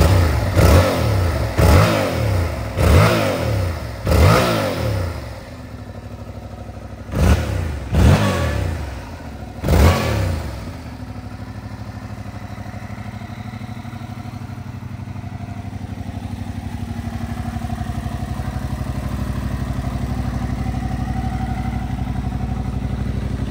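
A 2021 Yamaha MT-07 motorcycle on its stock exhaust revs hard in a series of sharp, loud blips close by, then settles into a steady idle.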